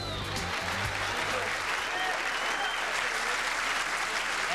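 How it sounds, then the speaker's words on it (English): Dense, sustained audience applause at a 1992 US Open pool billiards semifinal in Chesapeake, a steady wash of clapping from a full crowd with no break. "Very appreciative crowd here in Chesapeake, and a knowledgeable crowd."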